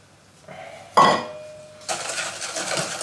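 Eggs and sugar whisked together in a bowl for a chocolate cake batter: a metallic clink of the whisk against the bowl, then a steady, close scraping and swishing that continues, with no talk.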